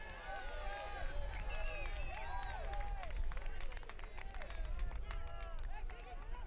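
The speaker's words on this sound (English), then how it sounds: "Hailstorm crowd you can hear approving that call." Football crowd at a Northern Colorado Hailstorm FC match against One Knoxville SC roaring approval of a referee's call, a steady, dense swell of cheering and scattered clapping with whistles and shouts, while a commentator talks over it.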